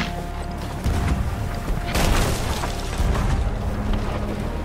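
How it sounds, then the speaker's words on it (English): Ship cannons boom in a Sea of Thieves naval battle, several heavy blasts and bursts rolling over a constant background of wind and water noise, fairly loud and close. "Normal cannons now if you can."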